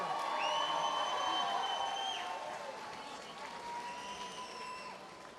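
Crowd at a Steelfist Fight Night bout claps and cheers for the winner, loud sustained applause with whoops and whistles, gradually easing over a few seconds.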